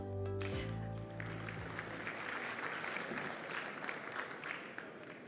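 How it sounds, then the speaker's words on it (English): Applause from a conference plenary audience, thanking a panel, rises as a steady wash of clapping after a brief held tone at the start, then continues evenly and moderately loud throughout. "Perhaps another round of applause for them."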